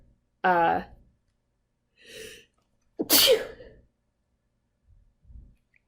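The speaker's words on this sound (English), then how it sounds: "that sneeze snuck up on me faster than I could pause the presentation" A single loud sneeze with a sharp breath in beforehand, followed by soft sighs and breathing in an otherwise quiet room.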